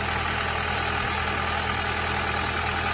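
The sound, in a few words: Honda Prelude engine idling after valve lash adjustment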